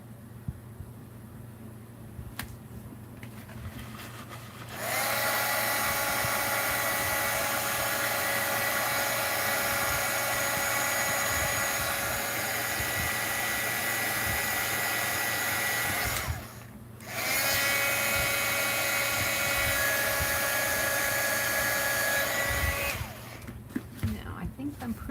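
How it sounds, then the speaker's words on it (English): A heat gun blowing on melted crayon over a cube box gives a steady, loud whirring roar that runs for about twelve seconds, cuts out briefly, then resumes for several more seconds before stopping, with no talk over it. "This where I blow it with that hot crayon with the heat gun, it makes a feathery effect."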